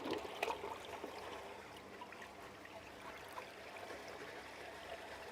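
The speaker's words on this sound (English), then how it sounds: "the water is flowing more freely through to the entrance of the culvert" Water flows through a small laboratory flume model toward a culvert entrance fitted with wing walls, producing a faint, steady trickling and rushing with a brief splashy burst near the start.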